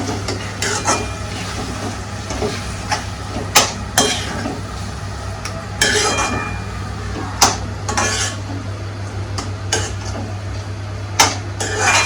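Mashed brinjal gets stirred into spiced oil in a pan for bharit, with a steady sizzle beneath repeated sharp spoon scrapes and clanks against the pan, loud and close.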